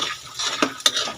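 A utensil works ham spread around a cooking pan for dry pasta: a short, close burst of soft scraping broken by two sharp metallic clinks.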